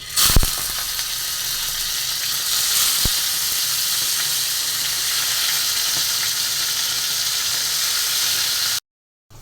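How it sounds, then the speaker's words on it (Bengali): Folui fish fries in a pan with a steady, hissing sizzle and a few sharp pops near the start, holding constant until it cuts off abruptly into silence near the end. "ফলি মাছটা আমি ভেজে নেব।"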